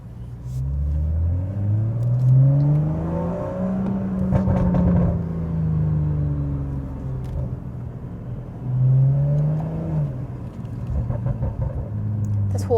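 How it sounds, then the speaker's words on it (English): A Volkswagen Golf R's exhaust rumbles and rises in pitch through repeated accelerations and gear changes, a loud steady engine drone recorded from inside the moving car. "I don't know if it's going to pick up the sound of the exhaust."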